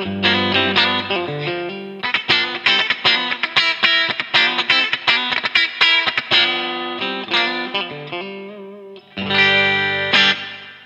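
Distorted electric guitar on an LT Custom Guitars Privateer single-cut, played through a coil-split humbucker for a thinner tone, with chorus and effects, strummed in rhythmic chords and riffs, loud and close with a brief pause near the end.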